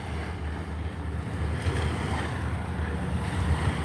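Waves churned up by a passing barge wash and slosh steadily under gusty wind, a continuous rushing surf close to the microphone, with no voices.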